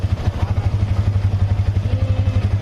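A Yamaha Vixion motorcycle engine running after being started during electrical jumper-wire work, a close, loud, steady rapid idle chug with a rhythmic pulsing beat.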